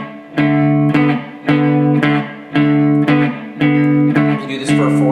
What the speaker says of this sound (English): It's a blues riff in D,